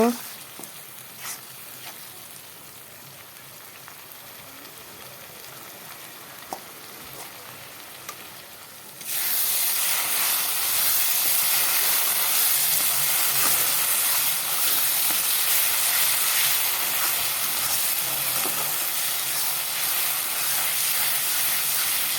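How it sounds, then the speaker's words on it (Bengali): Ground spice paste frying with onions in a pan for egg curry, starting as a low crackle and then jumping into a loud, dense, continuous sizzle and hiss that holds steady, close up with no voices. "এখন মশলাগুলো কিছু কষিয়ে নেই"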